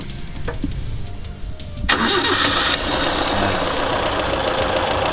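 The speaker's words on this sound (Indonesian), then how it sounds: "Mas mungkin bisa dengerin mesinnya kayak apa sih?" A restored Daihatsu Taft's petrol engine cranks and catches with a sharp burst, then settles into a steady, fairly loud idle with no talking.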